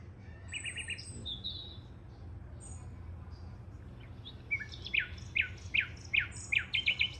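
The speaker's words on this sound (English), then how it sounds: "I just want y'all to hear the nature sounds" Recorded birdsong nature track from a Sound Rise II SFQ-16 bedside alarm clock speaker: scattered tweets early, then a run of bright, rhythmic chirps over a steady low hum.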